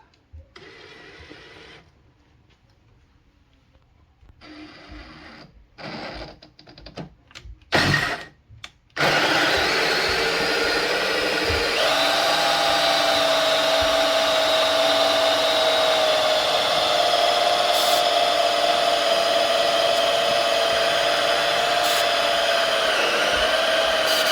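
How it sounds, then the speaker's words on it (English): After some quiet handling and a few clicks, a power drill with a wood bit whirs to life and runs steadily at high speed through material for a saltwater reef aquarium, loud and close, for a long stretch. "I'll drill this through and help my hole be clean on both sides."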